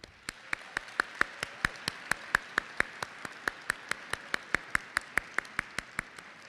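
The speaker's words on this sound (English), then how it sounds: "They deserve a round of applause." A single person claps steadily, about four claps per second, with sharp evenly spaced hits over a faint room hum, at a pre-commencement ceremony for bachelor's degree candidates.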